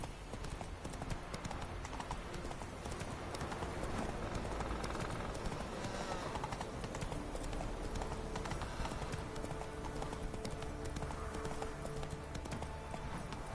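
A horse gallops in The Witcher 3, its hooves pounding in a fast, continuous clip-clop rhythm that stays steady and fairly loud throughout.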